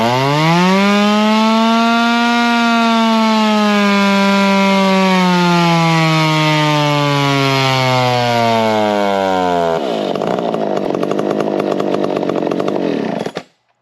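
A 7hp 55cc yellow race chainsaw screams at full throttle on a dyno, its pitch sagging slowly under load for about ten seconds before dropping off into a rougher, steady roar, loud and close with no talk.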